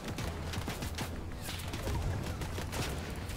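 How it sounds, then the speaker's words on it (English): Sniper shots ring out in a video game firefight as a series of sharp cracks spaced through a dense, constant wash of game noise, loud and close, with no voices on top. "Who's sniping us?"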